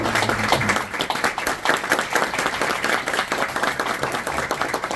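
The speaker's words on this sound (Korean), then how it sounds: "박수 한번 쳐주시기 바랍니다" Congregation at a church founding thanksgiving service in the Diamond Bar Center applauds steadily, many hands clapping in a dense, even roar that carries on throughout without a break.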